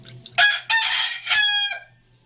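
A rooster crows nearby, one long multi-part cock-a-doodle-doo rising and breaking off, with a faint low hum underneath.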